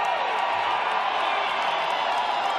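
A large crowd at a Trump rally in Las Vegas roars and cheers in a steady, dense wash of noise, with scattered whoops rising above the mass of voices.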